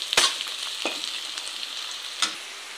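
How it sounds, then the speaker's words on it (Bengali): Onions frying in a wok make a gentle, continuous sizzle with a few sharp clicks and scrapes of stirring, close and quiet, with no talking. "কড়াই বসিয়ে দিলাম, দিয়ে পেঁয়াজগুলোকে ভেজে নিচ্ছি ভালো করে"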